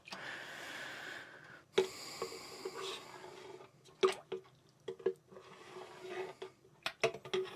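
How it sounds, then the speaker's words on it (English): Beer wort poured into a fermenter during home brewing, soft trickling and gurgling in uneven bursts with quiet gaps and a few sharp splashes and clunks. "this is my fermenter, so I'm actually letting it pour in here"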